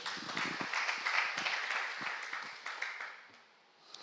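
A church congregation applauds together during a Sunday afternoon worship service, a dense steady patter of many hands that gradually fades toward the end.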